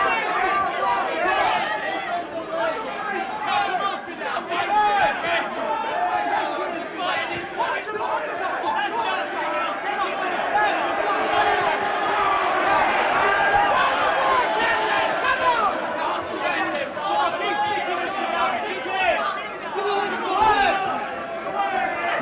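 A boxing crowd at Elland Road in Leeds chants and cheers for local fighter Henry Wharton during his bout with Fidel Castro Smith, a dense, sustained roar of many voices that swells in waves throughout.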